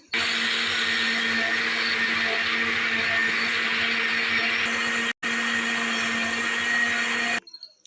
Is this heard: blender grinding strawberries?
yes